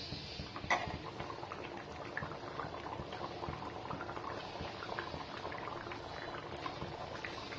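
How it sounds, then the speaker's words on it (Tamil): Prawn gravy boils uncovered in a pan, a steady close bubbling and simmering with a brief louder pop near the start, continuing evenly without any talk. "ஓப்பனில் வேக விட்டோம்னாக்குள்ள தண்ணி கொஞ்சம் கம்மியாகி கிரேவி நம்மளுக்கு கிடைக்கும்."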